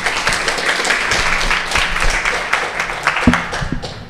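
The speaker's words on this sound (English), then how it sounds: "A round of applause for Finney." A steady round of audience applause at an April talk event on how young people use digital technology: dense, even clapping from a room full of people, sustained across the whole stretch at a fairly loud level with a little faint voice underneath.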